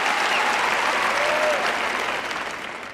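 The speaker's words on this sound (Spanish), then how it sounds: "Les aplaudo." Loud, steady applause from a large church congregation of thousands during a sermon, sustained for about three seconds and fading slightly toward the end.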